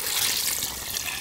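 Water pouring into a cooking pot of goat intestine for boiling, heard as a steady close hiss and splash of running liquid that lasts just over a second without talk.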